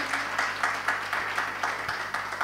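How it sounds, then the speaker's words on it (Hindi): An audience applauds at a Jain religious discourse in Indore, a steady wash of clapping across the whole stretch with faint rhythmic swells, moderately loud and without talk. "एक बार जोरदार तालियां बजाएं इनके लिए"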